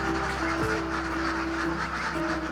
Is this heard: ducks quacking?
yes